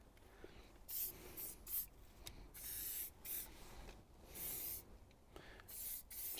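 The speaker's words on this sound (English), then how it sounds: "I'm just going to spray it on everything." Aerosol can sprays onto car parts in repeated short bursts, sharp hissing blasts of varying length separated by brief pauses, close and fairly quiet.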